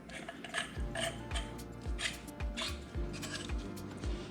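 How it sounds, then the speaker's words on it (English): Black iron pipe elbow fitting being screwed onto a threaded pipe, giving repeated scraping, grinding thread turns with a steady ratcheting rhythm at close range. "it's just a matter of screwing that elbow on"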